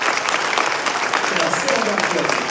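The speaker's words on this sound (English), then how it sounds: "so big round of applause for Joseph" An audience applauds Joseph at a State of the North County gathering, a thick continuous patter of clapping from a sizable crowd with voices murmuring underneath.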